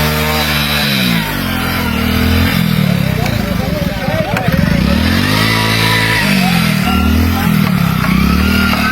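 A motorcycle engine runs loudly and close by on a broken road link in Bongaigaon district, Assam, its pitch rising and falling as it revs, with voices talking over it throughout.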